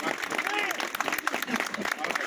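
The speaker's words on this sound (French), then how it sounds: "Vous pouvez les applaudir." At a demonstration by elected officials in Ille-et-Vilaine against a high-speed rail line, a crowd applauds the farmers who came by tractor, a busy patter of clapping mixed with people talking throughout.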